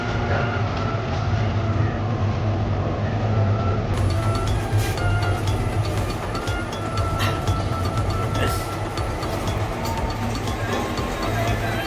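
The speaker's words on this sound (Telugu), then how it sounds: "సో ఇదే మా ట్రైను, వచ్చేసింది మా ట్రైన్" Train pulling into a railway station platform, a loud continuous rumble and rattling of wagons with clanks and squeaks, heard up close among station ambience.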